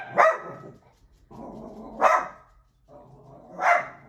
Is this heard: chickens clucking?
no